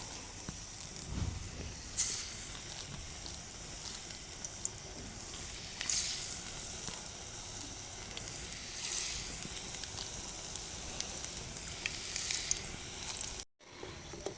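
Shiuli leaf fritters sizzle steadily in hot oil, a continuous crackling hiss with occasional brighter pops, heard close and alone before briefly cutting out near the end.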